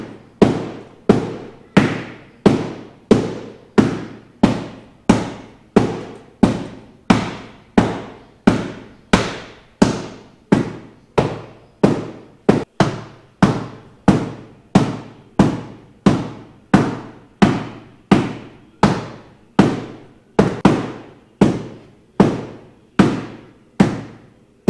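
Heavy hammer blows pound the sheet-metal transmission tunnel of a Toyota Cressida being modified for an LS1 engine and T56 gearbox, about thirty loud ringing strikes in a steady, evenly spaced rhythm, close and unaccompanied by talk.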